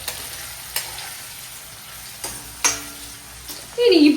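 Country chicken masala with ginger-garlic paste sautéing in a pan gives a steady close sizzle, broken by a few scraping clicks of the spatula and a louder burst at the end.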